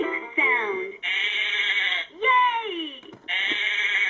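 A LeapFrog Farm Animal Mash-Up toy plays a recorded sheep bleat, wavering calls that repeat several times over bright electronic music, loud and close.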